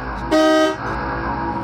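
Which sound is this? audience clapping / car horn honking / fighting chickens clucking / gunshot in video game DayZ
car horn honking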